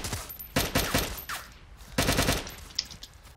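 Video game gunfire in two rapid automatic bursts, loud and close, separated by a short pause, followed by a few faint scattered clicks and pops and no speech.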